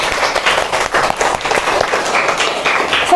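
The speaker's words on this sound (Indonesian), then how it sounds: "tepuk tangan dulu dong untuk Mbak Yasika" A class of students applauds a classmate, dense continuous clapping from many hands filling the room, fairly loud with a little speech mixed in.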